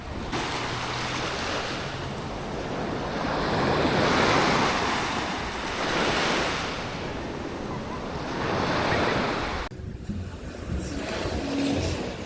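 Sea waves at Rayong beach roll in and break steadily, a broad rushing surf with swells rising and falling over several seconds, mixed with some wind buffeting on the microphone.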